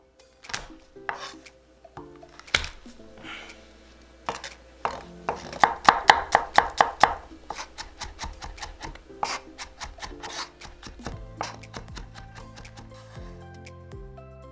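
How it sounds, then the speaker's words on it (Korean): A kitchen knife minces three whole garlic cloves on a cutting board with rapid, close, rhythmic chopping taps, quickening into dense bursts, with soft background music underneath. "통마늘 3개는 다져주고"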